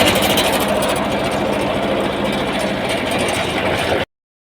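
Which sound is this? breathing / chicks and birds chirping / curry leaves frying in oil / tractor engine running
tractor engine running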